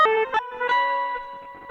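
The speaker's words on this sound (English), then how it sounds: "for very short periods of time to create these kind of random glitchy bursts." Random glitchy bursts built in Ableton Live: short stuttering chopped tones with sudden cuts and pitch jumps, loud and processed, a few rapid fragments in under two seconds.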